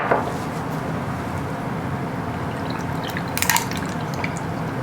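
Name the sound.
Thai iced tea poured over ice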